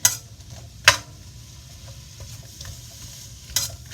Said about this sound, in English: And we're going to just saute these some more